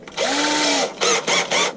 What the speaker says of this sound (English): Now we'll drill the first one into place now.